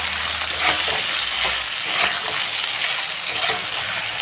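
Potato and eggplant pieces fry in a pan with a loud, dense, steady sizzle that swells and eases in gentle waves, close up and with no one speaking.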